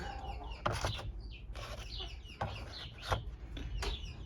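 Hens, including blue-egg layers, clucking in short bursts and squawks in a henhouse, several birds close by, with faint farmyard background noise between calls.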